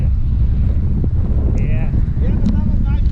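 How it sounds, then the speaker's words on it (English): Strong wind roars across the microphone during a hilly group bike ride, a loud continuous low rumble with brief faint chirps and squeaks over it. "It was very windy. You can hear it."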